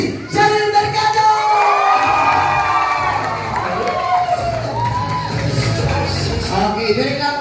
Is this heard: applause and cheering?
yes